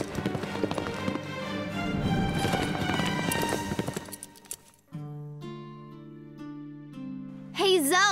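Horse hooves clip-clop in a horse-riding cartoon, a rhythmic trotting patter mixed under loud background music that drops away to sustained tones near the end.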